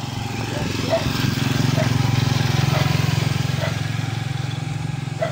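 Broken motorcycle with worn bearings and crushed rubber hub dampers, engine running with a steady low, rhythmic chugging throb, close and loud, while someone talks over it.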